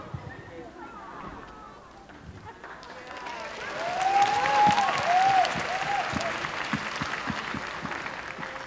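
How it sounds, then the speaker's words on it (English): A group claps together in a traditional celebratory clap at a gathering in India, with a dense burst of many hands over steady crowd noise and a voice calling out briefly in the middle. "The second tradition is the clap of happiness."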